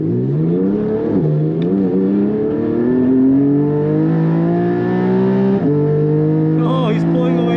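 A modded Porsche 718 GT4 accelerates hard on a race track, its engine note climbing steadily through the revs with a brief dip at a gear change, loud and close, with tire noise near the end.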